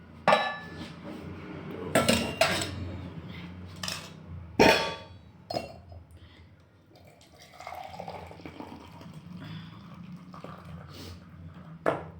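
Dishes and cutlery clink and knock in irregular bursts during a home breakfast, a few sharp impacts standing out over low kitchen clatter and faint trickling water.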